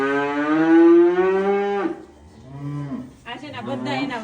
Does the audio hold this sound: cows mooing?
yes